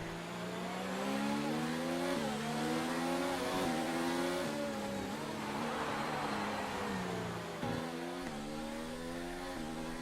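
Formula 1 cars from the F1 2019 racing game roar continuously at high revs, with repeated rising engine whines and gear shifts as a car chases in another's slipstream, loud and close throughout.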